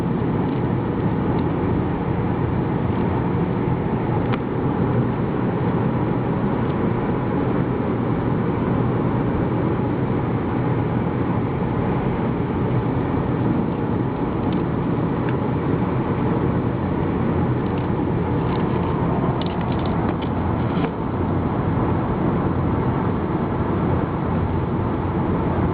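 Steady, continuous road and engine drone from inside a Mercury Milan 2.3 cruising in fifth gear at about 2,000 RPM around 60 mph, with broad tire and wind rumble holding at an even level throughout, no talking.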